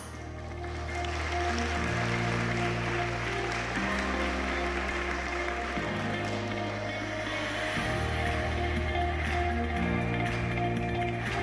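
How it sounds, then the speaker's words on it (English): Warm applause from a forum audience in Taiwan as a speaker is welcomed, a continuous even patter of clapping heard over a steady low musical drone throughout. "Please welcome him with a warm round of applause."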